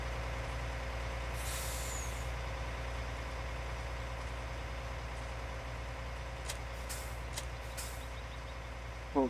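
Air brakes on a truck in a truck driving video game give a few short hissing bursts over a low, constant engine idle, with no voices.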